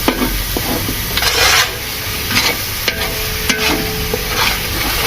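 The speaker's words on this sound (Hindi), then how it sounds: "इस मसाले को थोड़ा और भून लेंगे।" Masala of tomato paste and green chili paste frying for beef paya, with a steady sizzle and repeated scraping stirs of a spoon through the thick paste, close and continuous.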